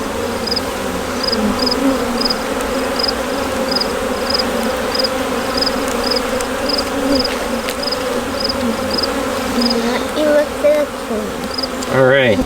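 Angry bees buzz loudly and continuously around an open brood box, a close, dense, wavering drone that fills the whole stretch.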